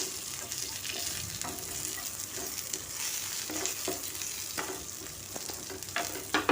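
Whole coriander seeds dry-roasting in a pan over a low flame give a faint, steady crackle with occasional scrapes and light ticks from stirring.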